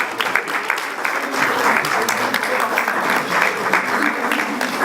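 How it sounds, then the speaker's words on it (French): An audience gives a steady round of applause for a film team, brisk, dense clapping holding at a fairly loud level with a few voices underneath. "je vais vous demander de les applaudir"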